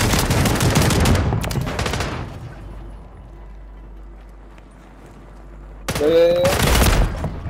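Bursts of rapid gunfire crackle loud and close in two clusters, a long volley at the start and another near the end, separated by a quiet stretch.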